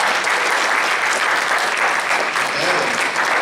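A church youth congregation claps in steady, dense applause for several seconds, filling the room evenly without pause.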